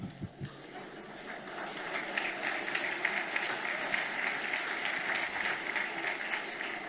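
An audience at a political speech at a foundation breaks into applause after a few isolated claps, swelling into a sustained, lively round of clapping with some crowd noise mixed in.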